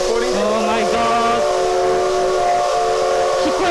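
A steam train's whistle sounds loudly over hissing steam and rumbling rail noise, with a brief voice breaking through near the start.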